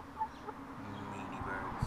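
Homestead chickens give soft, low clucks and murmurs, quiet and close, in a brief stretch with no talking.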